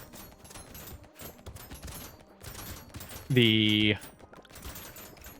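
Rapid bursts of cartoonish gunfire from piercing shots in the video game Brotato, dense and continuous, with a brief louder tonal game effect partway through, while someone talks over the action.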